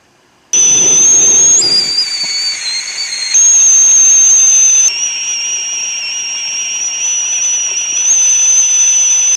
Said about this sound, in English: Once you hear that whistle guys, that is brew time